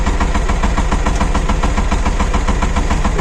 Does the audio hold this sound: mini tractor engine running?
yes